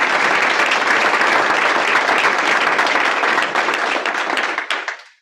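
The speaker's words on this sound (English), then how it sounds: "Just a round of applause for Victoria, please." An audience at a stakeholder meeting claps for the cook who provided the food, with dense, steady applause at close range for about five seconds before it tapers off and stops, no talking over it.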